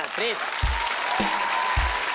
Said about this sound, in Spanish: Vea, un aplauso para ella